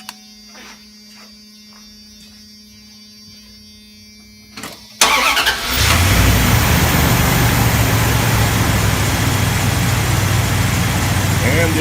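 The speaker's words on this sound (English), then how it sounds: "It jump-started the vehicle with no trouble at all." A V8 engine on a vehicle cranks briefly, then catches and roars into a loud, steady run after being started with a cheap 3000A jump starter, following a quiet stretch with a faint hum.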